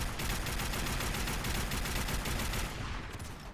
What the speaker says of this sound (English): It does feel like we're firing a big caliber round